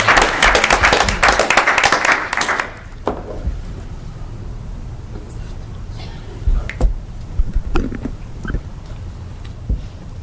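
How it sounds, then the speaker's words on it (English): At a city council meeting, a room of attendees bursts into brisk clapping for about three seconds, then it fades to scattered faint claps and room noise. "come on, clap"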